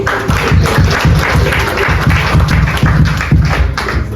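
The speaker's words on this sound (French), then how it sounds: "On acclame pour Paul." A church congregation applauds for Paul with loud, rhythmic clapping and thumping beats, close and steady throughout, with no talk over it.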